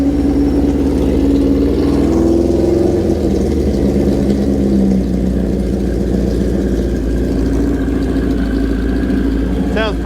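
A 1977 Kawasaki KZ1000 or Honda CB160 motorcycle engine idles steadily while warming up, a continuous close rumble running through the whole stretch with a slightly raised idle and no pauses.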